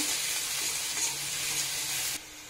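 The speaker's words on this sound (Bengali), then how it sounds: "রসুনটা দিয়েও ভালো করে ভেজে নেব" Garlic paste fries with chopped onions in a pan, a bright, steady close sizzle that drops to a quieter hiss just before the end, with no voices.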